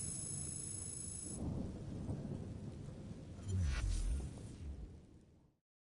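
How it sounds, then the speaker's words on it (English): A large explosion in the video game Assassin's Creed Syndicate sounds as a heavy, rolling boom amid a steady rain-like wash, swelling loud partway through and then cutting off abruptly. "What was that explosion?"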